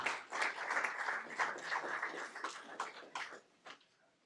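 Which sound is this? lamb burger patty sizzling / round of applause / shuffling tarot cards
round of applause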